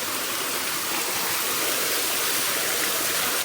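A stream flowing near a temple, a dense and steady rush of water heard up close and loud throughout, alone with no voices.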